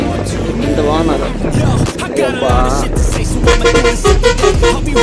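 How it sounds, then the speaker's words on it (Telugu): A loud, tuneful multi-tone Tamil Nadu-style vehicle horn blares on a highway, sounding in repeated musical bursts close by over engine and road noise. "అది ఎక్సలెంట్ హార్న్, తమిళనాడు హార్న్ అది."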